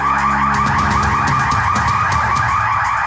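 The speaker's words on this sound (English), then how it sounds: "Fire alarms has gone off, so everybody has to evacuate the building." A fire alarm sounds inside an animal shelter building, a loud, continuous electronic warbling tone that repeats rapidly and steadily without pause, filling the space on its own with no voices.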